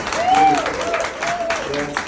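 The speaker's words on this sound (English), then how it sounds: "Can I hear some claps?" Wedding guests clap at the end of the vows, a moderate burst of applause mixed with rising cheering voices and whoops close by.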